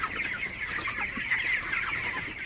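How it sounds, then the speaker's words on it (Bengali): Broiler chickens about twenty-two days old cluck continuously in a farm shed, a dense, moderately close chorus of overlapping clucks with no talking. "বাইশ দিন তো মুরগিগুলো কিন্তু মাসাল্লাহ খুবই ভালো আছে সুস্থ আছে"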